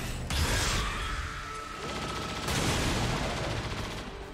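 A precision shot in the XCOM 2 strategy game lands as a loud, close burst of heavy gunfire with a sustained whining tone, then a second blast follows about two seconds later.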